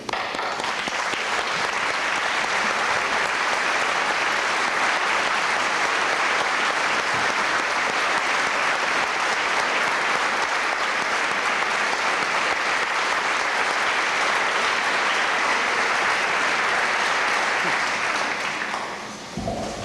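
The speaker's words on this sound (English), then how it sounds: "I think we owe this year's team a standing ovation" Standing ovation for a football team at a 1997 high school banquet, sustained dense applause from a large indoor crowd, steady and loud for nearly twenty seconds before tapering off abruptly.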